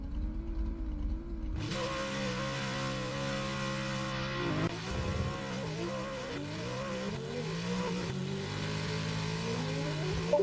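Simulated drift cars, a Nissan 180SX and a C5 Corvette, in a sim racing game, engines revving and bouncing in pitch, tyres squealing, a continuous busy roar after a brief quieter start.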